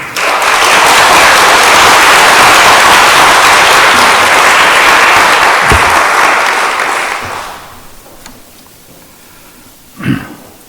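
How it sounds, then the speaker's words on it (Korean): An audience claps loudly to welcome a pastor at a staff retreat, a dense burst of applause that runs about seven seconds and then fades out, followed by a few scattered thumps and quiet room noise. "목사님 오시면 많은 환영의 박수 부탁드리겠습니다"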